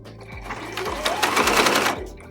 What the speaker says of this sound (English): we're just going to repeat the process of adding the stitches on top of the new strip to give it that quilted look